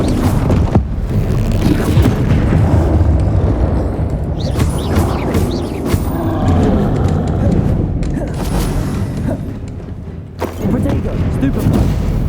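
Bombarda and Confringo spell blasts in Hogwarts Legacy, a dense run of loud booming explosions and crackling impacts layered over continuous combat noise, with sharp thuds around the middle and a brief dip near the end.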